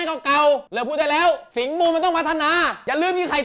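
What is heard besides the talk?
No everyday noise stands out behind the speech.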